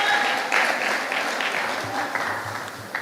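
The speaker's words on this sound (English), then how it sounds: "let's give them a round of applause as we are about to begin" Audience applause and cheering at the 7th annual primary school cooperatives quiz, a steady dense wash of clapping lasting throughout with some faint voices mixed in.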